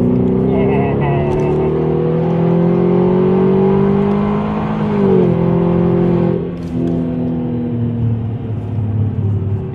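Supercharged BMW 645Ci E63 with exhaust cutouts open, pulling hard on an autobahn, engine droning and rising in pitch through the gears, loud and steady from inside the car with people talking over it.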